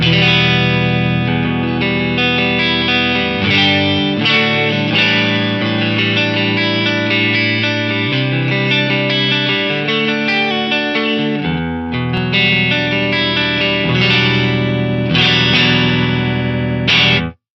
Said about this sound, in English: let's just have a listen to the tone with the Eclipse bypass